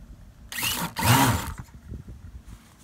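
A nitro-powered RC outrigger model boat engine sputters as it tries to start, with two short, rough bursts of buzzing that fade into quieter mechanical noise.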